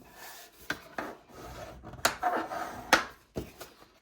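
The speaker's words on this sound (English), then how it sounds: "Sorry, burnish the first one." A folding tool is burnished along a score line on pre-made card stock, making soft rubbing and scraping strokes broken by a few light taps. The sounds are close and quiet, with no voices.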